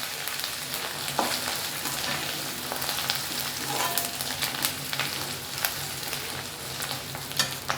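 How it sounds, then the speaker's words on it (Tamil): Crushed ginger and garlic sautéing in oil in a pan, a steady hissing sizzle with scattered spoon scrapes and clicks throughout, near and without talk. "பூண்டு, எல்லாம் கொஞ்சம் நல்லா வதக்கிடுங்க"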